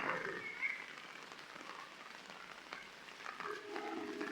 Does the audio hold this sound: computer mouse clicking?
no